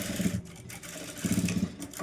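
A sewing machine stitching a blouse panel runs in two short bursts of rapid, even whirring, separated by a brief pause, close and moderately loud with no talk.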